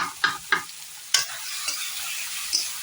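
Eggplant fries in a pan with a continuous sizzle, broken early by several sharp scraping strokes of a spatula and a few fainter stirs later.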